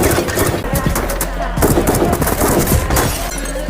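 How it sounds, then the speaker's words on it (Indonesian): A film gunfight between police and drug dealers crackles with rapid, dense gunshots and sharp impacts, loud and continuous across the whole stretch. "tiba-tiba muncul ledakan yang membuat adegan baku tembak antara polisi dan para pengedar"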